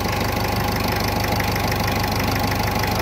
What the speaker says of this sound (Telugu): సో వెహికల్ స్టార్ట్ అయింది